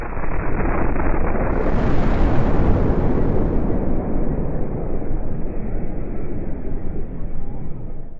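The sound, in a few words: explosion at a paper mill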